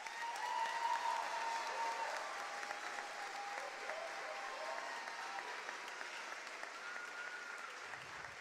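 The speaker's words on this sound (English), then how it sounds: "Could we give them one more round of applause for that?" Sustained audience applause at a Class of 2025 commencement ceremony: a steady, dense wash of many hands clapping for several seconds, slowly easing off toward the end.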